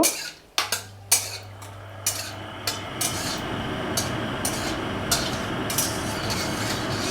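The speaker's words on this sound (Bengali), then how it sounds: "লঙ্কাগুলো একটু লাল লাল করে ভেজে নেব" Repeated clinks and scrapes of a utensil against a metal pan as dried red chilies fry, over a steady low frying hiss, with a brief hum near the start.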